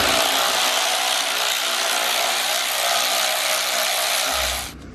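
A power tool whines steadily and close for several seconds while T20 screws come out of a BMW M47/M57 diesel intake manifold, then cuts off abruptly near the end.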